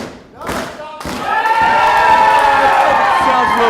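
Arena crowd at an indoor wrestling event cheers and shouts loudly and continuously, a dense roar that swells after a couple of sharp thumps and stays at full volume throughout.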